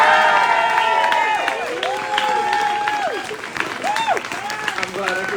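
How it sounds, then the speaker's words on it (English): Audience at a poetry reading during a book launch party at El Rio bar claps steadily throughout, with whoops and rising, sliding cheers from several voices layered over the dense, sustained applause. "I want a round of applause for ESLG critic."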